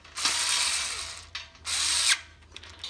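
A wrench ratchets while tightening a bolt during walkabout workbench assembly, two sustained bursts of rapid, close clicking separated by a short pause, followed by softer scattered taps.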